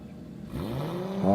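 A drift car engine at a track event revs up sharply from near quiet, with the note climbing quickly and growing louder toward the end.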